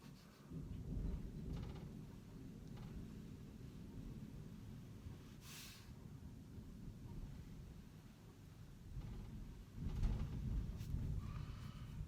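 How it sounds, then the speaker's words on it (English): Thunder rumbles outside during a thunderstorm, a steady low roar with louder swells near the start and again around ten seconds, rain and wind hiss underneath, no talking. "Got a thunderstorm going on right now"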